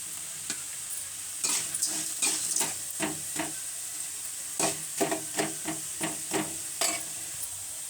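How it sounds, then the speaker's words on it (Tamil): Ingredients, including dried red chillies, are sautéed in a hot pan, with a constant sizzling hiss broken by a brisk run of rhythmic stirring scrapes, close and fairly loud. "இதை போட்டு நல்லா வதக்கணும்"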